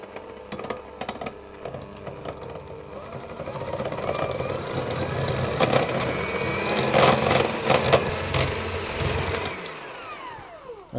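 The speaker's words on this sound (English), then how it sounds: "I'm just going to mix those together to get them combined" An electric hand mixer whirs steadily while beating butter and cream cheese together in a bowl, a loud continuous motor drone with rattling beater knocks before it cuts off.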